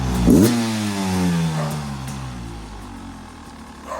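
A 2023 Beta 300RR Race Edition dirt bike engine is cranked and revved once, a sharp rising blip that settles into a steady, loud idle heard up close.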